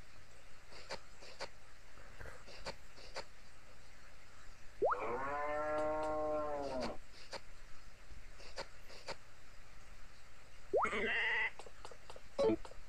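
Sheep in the Harvest Moon farming game give two separate bleats, a long wavering one and then a shorter one, clear and moderately loud over quiet game background with faint clicks.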